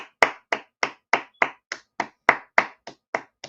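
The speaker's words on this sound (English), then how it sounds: "a round of applause" One person claps alone, about thirteen sharp, evenly spaced claps at a steady moderate pace, close by, with nothing else heard.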